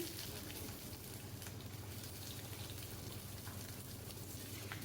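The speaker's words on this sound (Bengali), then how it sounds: "তেলটা গরম হয়ে গেছে এবার প্রথমে আলুগুলোকে ভেজে নেব" Potatoes fry in hot mustard oil, a faint, steady crackling sizzle that runs unbroken at a low level, with no voices.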